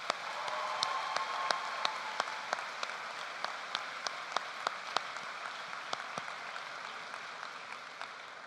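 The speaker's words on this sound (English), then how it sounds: "let's honor their service to all of us and to the country with a round of applause" Audience applause fills a high school commencement hall, a steady wash of many hands clapping for several seconds with a few sharper, closer claps standing out, no talking over it.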